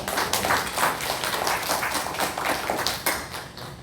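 Church congregation clapping together during a Sunday worship service, a dense, steady patter of many hands that stays fairly loud and even for about four seconds, with no one speaking.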